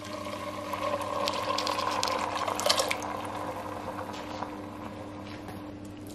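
Bone broth pours from a carton into a soup pot for keto zuppa toscana, a steady glugging liquid stream for several seconds that gradually thins and fades, close and moderately quiet over a low background hum.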